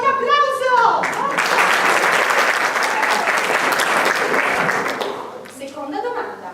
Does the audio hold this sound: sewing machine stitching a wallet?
no